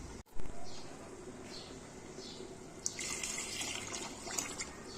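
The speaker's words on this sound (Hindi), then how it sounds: "अभी मैं इसमें मज़ीद 2 गिलास पानी और शामिल करूंगी।" Water is poured into a pot of dried apricots and dates, starting with a light splash and growing into a steady, gentle stream in a quiet kitchen.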